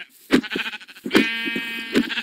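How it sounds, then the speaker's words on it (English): Three sharp, loud sheep bleats from a white sheep in the Minecraft video game, close and clear with short gaps between them, with no talking over them. "I'll get this white sheep right here"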